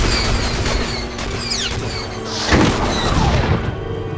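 Blasts and gunfire from the Star Wars: The Old Republic video game, with a steady low rumble, zipping laser-like sweeps, and a heavier booming hit midway, loud and continuous throughout.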